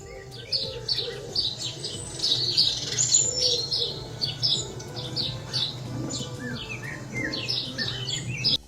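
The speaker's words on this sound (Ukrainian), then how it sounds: "Сьогодні ми з вами поговоримо про птахів. Послухайте, будь ласка, їх спів." Several birds chirping and calling close by, bright repeated tweets and short squawks over a low steady background hum.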